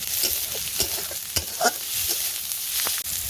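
Prawns sizzle and fry in hot oil with onion, green chillies, dried red chilli and bay leaf, a steady close crackle with occasional stirring scrapes and no talking.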